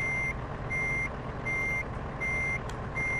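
A truck backing a trailer into a tight spot sounds steady reversing beeps, a regular on-off alarm repeating about every three-quarters of a second over a low diesel engine rumble, with no talking.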